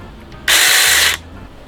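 Saker mini chainsaw, a power tool, bursts into a short, loud buzzing whine for under a second, then cuts off, heard close with no talking.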